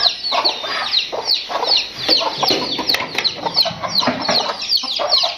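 Red, white and black roosters and hens at a village market, clucking rapidly and busily up close, some overlapping squawks in a continuous burst.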